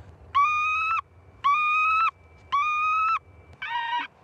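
A recorded lapwing distress call is broadcast from a remote-triggered bird scarer at Roissy Charles de Gaulle airport, four loud, evenly spaced, harmonic electronic cries, each about half a second long, over a low background hum.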